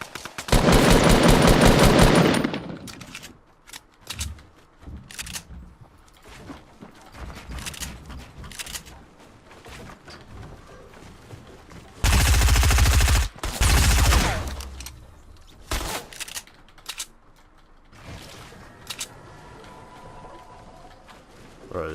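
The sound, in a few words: sub-machine gun firing in a video game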